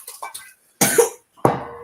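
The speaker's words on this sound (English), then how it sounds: "You see now that's why you're coughing." A few short, harsh coughs close by from someone choking on food: a couple of small ones, then two louder bursts separated by brief silences.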